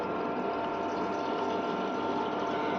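Butter cream melting and simmering in a pot into homemade ghee gives a dense, steady bubbling hiss that holds even and unbroken throughout, close and fairly loud, no voices.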